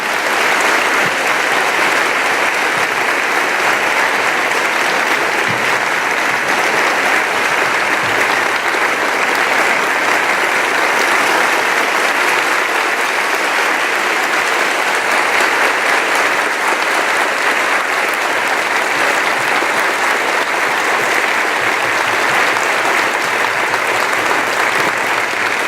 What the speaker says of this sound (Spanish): Un aplauso a la palabra de Dios proclamada